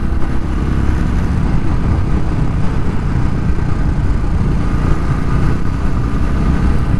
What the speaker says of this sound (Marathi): बुलेटचा जो फायरिंग जी क्लासिक BS4 BS3चा जो आवाज आहे ना